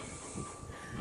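A Brecon heritage train rolls past in one steady, continuous rumble with faint hiss, close and even in level throughout the short stretch, no voices over it.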